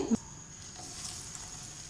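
Broken wheat cutlets deep fry in hot oil with a steady, soft sizzling hiss, heard close and alone after a brief opening clack.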